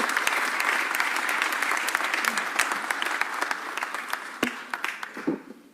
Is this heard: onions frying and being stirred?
no